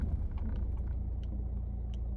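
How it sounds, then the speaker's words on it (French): Car engine noise heard from inside a moving car: a steady low rumble and road drone that runs throughout, with a few faint clicks and rattles on top and no talk. "il y a le bruit de la voiture"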